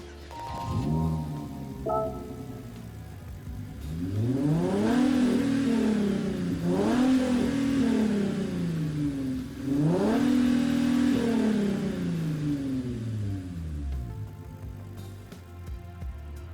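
A Hyundai Genesis Gr.4 race car engine in a racing video game revs and accelerates in repeated rising sweeps, loud and close, then gradually settles and fades.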